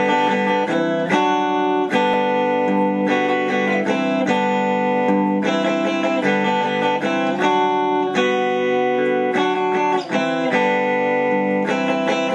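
Steady strummed acoustic guitar chords with a bright, even rhythm, close and clear, playing continuously with no voices.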